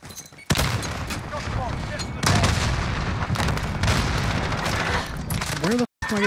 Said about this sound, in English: Where the f*** am I getting shot from?